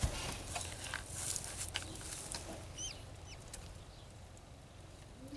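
Faint peeping of unhatched chicks calling from inside eggs in a broody hen's nest, a few thin high chirps against low background noise and some clucking.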